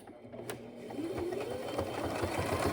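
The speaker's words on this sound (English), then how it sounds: "We're just gonna stitch right along there." A sewing machine top-stitches close along a fabric edge while making a zippered pouch, a steady motorized whir that builds and holds, fairly quiet and close with no talking.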